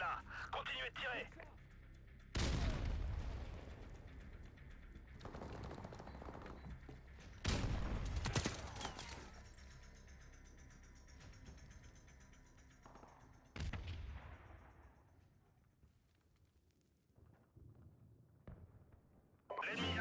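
Gunfire in an online team shooter game, heavy booming blasts with bursts of shots and thuds at irregular intervals, some trailing off into fainter distant fire, loud and mixed with voices.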